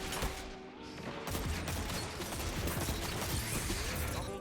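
Video game gunfire in a Dead Man's Tale match, a rapid dense burst of shots crackling almost continuously for several seconds, loud and close with no talk over it.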